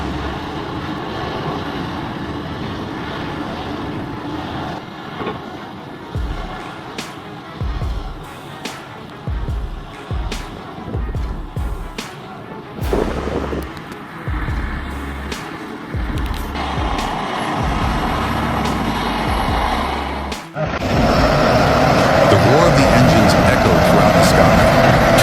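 Heavy off-road truck with a steel blade carving into the ground and pushing boulders, its engine roaring loudly and continuously, swelling louder near the end, with intermittent speech-like sounds and clatter mixed in.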